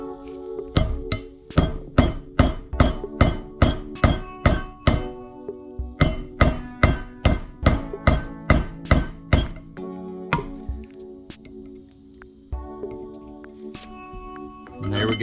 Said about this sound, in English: Alright, let's try whacking that sucker.